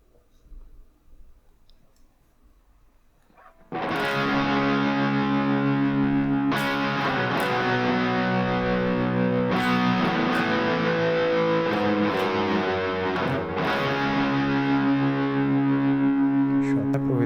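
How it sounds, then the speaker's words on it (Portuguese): An electric guitar through a tiny Nobels Del Mini delay pedal set to stereo plays sustained chords with repeats trailing behind, starting after several seconds of quiet clicking and hum, then ringing loud and steady with fresh strums every few seconds. "agora ele está modulando o delay de um lado para o outro no estéreo como deveria ser mesmo"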